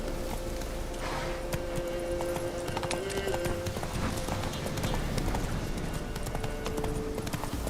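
Horse hooves from The Witcher 3 clip-clop in a fast, steady rhythm close by, set against continuous ambient noise with a faint tonal hum.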